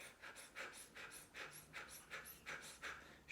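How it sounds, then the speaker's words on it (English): Rapid, shallow chest breathing demonstrated as incorrect stress breathing, about nine quick breathy puffs in a steady rhythm, close and fairly quiet with no talking. "Shallow breaths into your chest."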